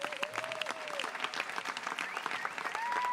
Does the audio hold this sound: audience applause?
yes